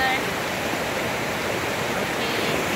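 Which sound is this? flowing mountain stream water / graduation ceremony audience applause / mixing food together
flowing mountain stream water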